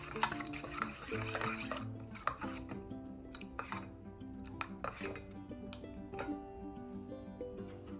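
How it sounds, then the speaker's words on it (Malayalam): A spoon stirs pepper powder into hot water, giving clinking and scraping strokes against a vessel at close range. Faint background music or sound runs underneath. "നല്ലതുപോലെ കലക്കി വയ്ക്കുക"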